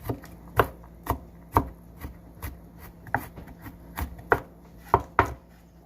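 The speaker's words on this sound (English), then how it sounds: "Just want to cut it up roughly" Garlic cloves are chopped roughly with a knife on a cutting board, a dozen or so crisp, irregular knocks spaced about half a second apart, close and clear with no talk.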